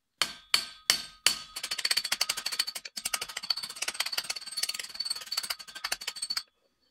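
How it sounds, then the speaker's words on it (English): A hammer taps a driveshaft bearing into place on a BMW Z4 E85: four separate sharp metallic strikes, then a fast steady run of lighter taps for several seconds, close and crisp with no talking. "You don't have to tap the bearing too hard."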